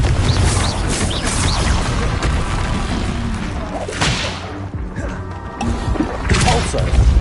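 Spell combat in the Hogwarts Legacy video game with a fiery Confringo blast, loud layered crashes, whooshes and booming impacts in quick succession over a dense, continuous game mix.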